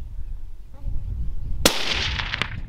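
A single sharp rifle shot rings out in open bush while hunting plains game in Botswana, loud and close, followed by a rustling wash of movement and low rumble.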